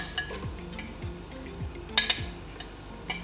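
Chopped onion dropped into hot oil in a home kitchen pan while cooking shola, a steady low sizzle with sharp metallic clinks of a spoon stirring against the pot.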